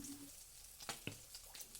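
Egg and cauliflower fritters fry in hot oil, making a faint, soft sizzle with a few sharp pops and crackles scattered through the short stretch.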